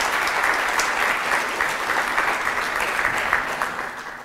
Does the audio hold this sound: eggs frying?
no